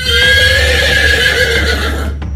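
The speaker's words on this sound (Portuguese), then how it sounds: "o animal deu uma empinada muito forte. Relinchou." A horse neighs in a long, loud, shrill whinny used as a sound effect in a radio story about a rearing horse, close and alone, ending abruptly.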